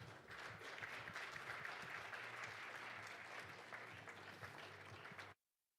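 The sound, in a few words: audience applause welcoming speaker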